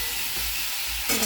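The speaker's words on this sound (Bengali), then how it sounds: "এই নুন হলুদ দিয়ে একটু ঢাকা দিয়ে ভাজি" Food sizzles steadily in a covered pan with salt and turmeric, a continuous close hiss that swells slightly near the end.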